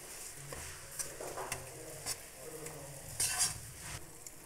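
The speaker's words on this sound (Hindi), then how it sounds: "इसको मैं मीडियम आंच पे ही भून रही हूँ।" Gram flour with a pinch of turmeric roasting in a pan over medium heat for besan barfi, stirred with soft scraping and faint sizzle, occasional utensil clinks, no talk.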